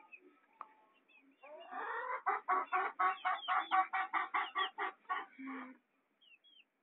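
Free-range hens cluck in a rapid, rhythmic run of sharp calls, close by, rising then trailing off, with no voices.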